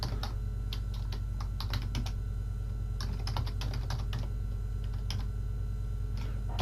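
Someone types on a computer keyboard in quick bursts of close, clicking keystrokes over a steady low electrical hum, with no talking.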